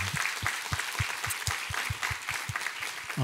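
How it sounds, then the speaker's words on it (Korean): A church congregation claps together during a Sunday service, quiet and somewhat distant, in a steady rhythmic beat of unison hand claps. "찬양받기 합당하신 하나님께 우리 감사와 영광의 박수 올려드리도록 하겠습니다."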